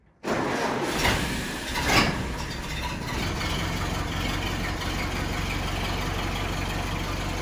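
A 1931 Ford Model A pickup engine runs at a steady idle, a continuous close rumble with a couple of brief surges near the start and no talking.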